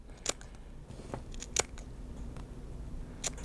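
A few quiet snips of scissors cutting yarn wound on a pom pom maker, three crisp clicks spread over a few seconds against a low, hushed room background.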